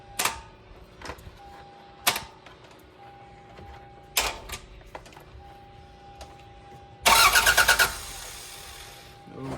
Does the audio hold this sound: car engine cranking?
yes